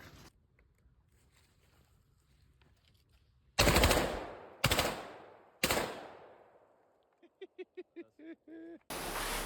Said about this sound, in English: It is shooting semi-auto really, really, really fast.